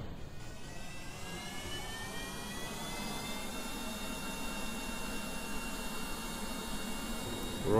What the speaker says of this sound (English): Full throttle. Fire all the engines.